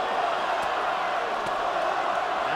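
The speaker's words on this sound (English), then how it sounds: "the crowd really liking what they're seeing here" Arena crowd at the Andrew Golota vs Chris Byrd boxing match, a dense continuous roar with faint thuds, loud and steady.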